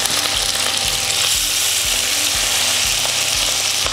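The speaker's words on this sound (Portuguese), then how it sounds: "E agora, neste azeite que nós fritámos o bacalhau, vamos voltar a colocar" Onion frying in olive oil left from frying salt cod: a loud, constant crackling sizzle with a rhythmic ticking pulse underneath, no voices.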